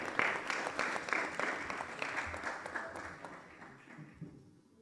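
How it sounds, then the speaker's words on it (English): An audience at an online academy launch event breaks into a round of applause, dense clapping that stays steady and then gradually fades toward the end. "Let's give him a round of applause as he joins us."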